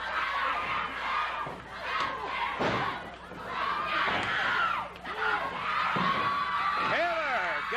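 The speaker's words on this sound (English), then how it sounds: "Crowd really getting into it." A wrestling crowd at a 1983 Memphis show roars and cheers in loud waves, with shouts and thuds from the ring rising out of the din.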